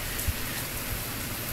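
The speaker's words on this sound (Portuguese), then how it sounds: "só se escuta o barulho de chuva" Rain falls steadily at night in Santos, São Paulo, forming a dense, even hiss with a faint low thump near the start.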